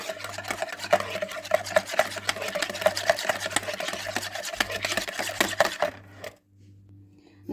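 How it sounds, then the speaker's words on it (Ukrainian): A spoon stirs warm kefir mixed with baking soda in a bowl, giving a steady run of rhythmic scraping strokes close up. The stirring stops abruptly near the end, leaving a quiet low hum. "Добре все разом перемішую."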